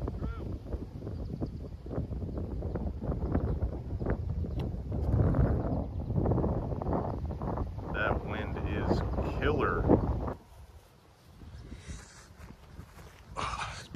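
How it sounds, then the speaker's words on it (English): Strong gusting wind buffeting the microphone on the Porter Park disc golf course, roaring loudly for about ten seconds before dropping away, with a person talking over it. "this wind's a little more severe than I thought"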